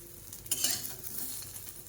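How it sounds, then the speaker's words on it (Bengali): Chopped potatoes frying with cumin in a drop of oil, stirred once with a brief scraping burst over a steady soft sizzle, fairly quiet and close. "এক ফোঁটা এক বিন্দু তেল দিয়ে তাতে জিরেটা দিয়েছে জিরেটা দিয়ে এটা একটু নেড়ে ছেড়ে নিলাম"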